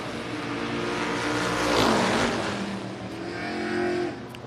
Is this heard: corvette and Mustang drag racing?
yes